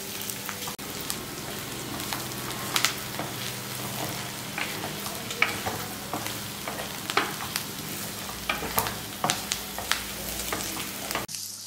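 Dry fish and onion pieces fry in hot oil for a dry fish and brinjal curry, a continuous close sizzle with scattered crackles and occasional stirring scrapes.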